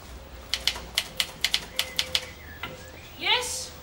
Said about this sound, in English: I think she's typing there in the shed now